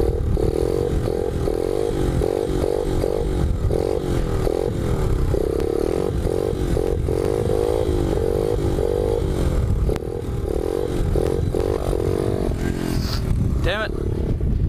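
A pit bike engine revs hard and steadily in mud, its note rising and falling through repeated throttle bursts, close and loud, with voices talking over it.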